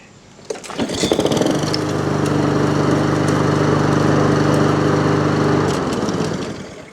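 A Honda HRX217 walk-behind lawn mower engine pulls into life, settles into a loud, steady, close running drone for several seconds, then cuts out and winds down, with no talk.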